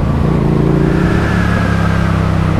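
A car rolls along a narrow toll road near Lake Tegernsee toward a dead end, its engine a steady low hum with tire and wind noise, close and continuous without any talk.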